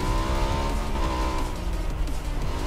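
Vehicle engine from the battle royale game PUBG, likely a motorcycle, droning steadily and loudly with shifting revving tones throughout, with no speech over it.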